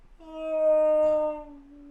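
A voice imitates a whale as a vocal warm-up, a single long, steady, tonal hum that swells, holds for over a second, then fades, close and clear.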